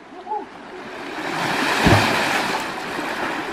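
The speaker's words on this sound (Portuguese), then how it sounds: "Água forte" Strong river current in a riverside forest rushing past, a broad steady wash with a louder splash in the middle, close and fairly loud, with a brief voice near the start.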